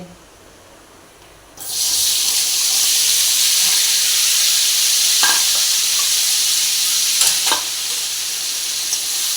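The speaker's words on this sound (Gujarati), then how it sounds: "પછી આપણે આખું જીરું નાખવાનું છે।" Whole cumin seeds hit hot oil in a pan for a Gujarati kothimba shaak, with a sudden onset of loud, steady sizzling and bubbling that continues alone, with a couple of brief clinks from stirring.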